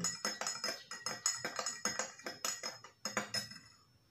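A piece of bajakah wood stirs water in a glass, clinking quickly and rhythmically against the sides about twenty times before stopping. The sound is close and fairly quiet.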